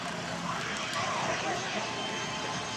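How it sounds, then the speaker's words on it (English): A model jet with a gas turbine engine cruises slowly overhead at a flying field, its steady whooshing roar heard from a distance as a continuous drone while someone talks over it. "And he's got the plane just flying slow now."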